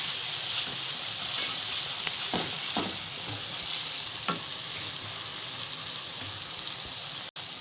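Garlic-ginger paste and tomatoes sizzle steadily in a frying pan for dal chana karela, with a spoon scraping and stirring in several distinct strokes over the continuous frying hiss.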